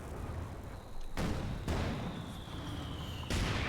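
Mortar and artillery fire in the video game Company of Heroes 2, with a few dull booming impacts at intervals over a steady rumbling battle background, fairly faint and without talk.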